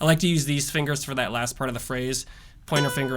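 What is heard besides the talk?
No everyday noise stands out behind the speech.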